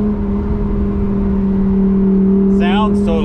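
A Ferrari F8 Spider engine, with its exhaust mode switched, holds a loud, steady droning hum heard from inside the car, and a person starts talking near the end.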